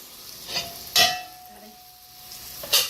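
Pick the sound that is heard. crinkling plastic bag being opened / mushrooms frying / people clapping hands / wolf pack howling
mushrooms frying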